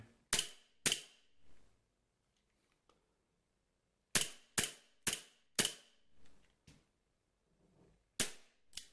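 Sharp, loud shots from a CO2 airsoft Colt M1911 A1 pistol cracking in two bursts, each shot followed by a short decay, with quiet gaps between volleys.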